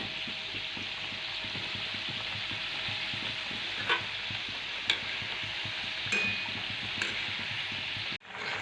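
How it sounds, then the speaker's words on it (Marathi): Modaks deep-frying in hot oil give a steady, close sizzle throughout, with a few brief clinks and stirring sounds from a utensil and a short dip near the end. "हे राहिलेले मोदक पण अशाच प्रकारे तळून घ्यायचे आहेत"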